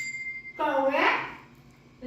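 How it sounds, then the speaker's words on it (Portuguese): A small bell struck once in a children's instrument listening game, giving a short bright ring that decays over about a second, with faint talk before and after. "O sino!"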